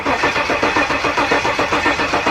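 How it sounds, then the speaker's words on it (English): Car engine cranking over with the ignition off to build fuel and oil pressure after a parking-lot engine swap into a drag-built Jaguar, a steady, loud rhythmic churn of repeated starter pulses with no firing. "We're gonna have to crank this thing a whole bunch just to get some fuel up to the carburetors and to get some oil pressure"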